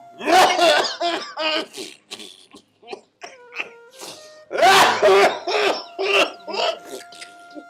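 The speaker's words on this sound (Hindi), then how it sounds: "अरे इस बुड्ढे ने खांसी ने जम्मा खा लिए" An old man coughs in several harsh, rasping bursts, close and loud, mixed with wheezy laugh-like sounds and a faint high buzz.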